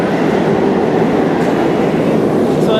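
Subway train running through a small, crowded station, a loud continuous rumble of wheels and rail noise filling the whole stretch, close by.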